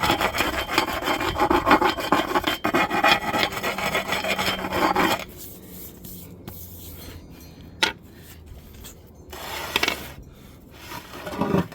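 A polished granite slab is spun and slid across a work surface, producing a loud grinding rub for several seconds, then quieter scrapes and a few sharp knocks and shifts.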